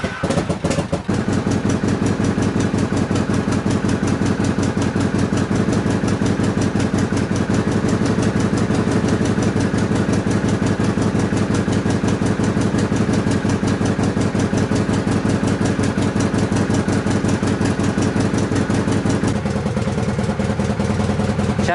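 A Moskvich 412 car engine idles steadily throughout, a continuous close mechanical drone with fine rhythmic clatter and no voices.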